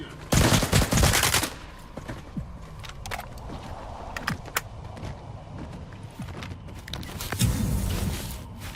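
Gunfire in the video game STALKER 2 in Pripyat: a loud automatic burst near the start, scattered single shots and clatter, then another sustained volley near the end, with no talking.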